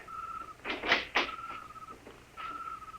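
A door opens as a radio-drama sound effect: a few loud creaks and thumps, with a steady faint whistle-like tone running underneath before and after.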